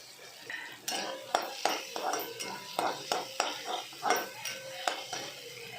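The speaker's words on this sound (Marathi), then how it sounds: "कोथिंबीर टाकून घ्यायची, मिक्स करून घ्यायचं।" Egg masala with coriander being stirred in a pan, a spoon repeatedly scraping and clinking against metal in an irregular rhythm, close and distinct, with faint sizzling beneath.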